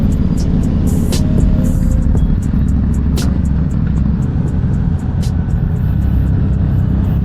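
A 2024 Honda CB650R motorcycle on the move, its engine a loud, continuous low rumble blended with road and wind noise, steady throughout with no talking.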